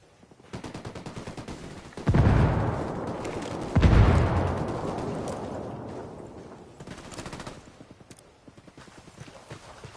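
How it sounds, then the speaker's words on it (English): Small arms gunfire crackles in rapid irregular bursts in Ghost Recon Wildlands, with two louder heavy blasts that decay slowly, moderately distant, with no talking. "We got small arms fire."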